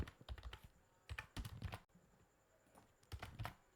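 Code is typed on a computer keyboard in short bursts of quick, crisp key clicks separated by brief pauses, close but faint, with no talking during the typing.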